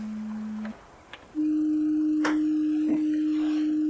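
A steady electronic beep tone from a brainwave monitor detecting alpha waves drops out briefly, then returns at a slightly higher pitch and holds steady, with a few faint clicks around it.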